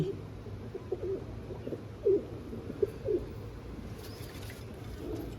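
White pigeons in a netted loft give a few soft, low coos close by, spaced irregularly over a quiet background.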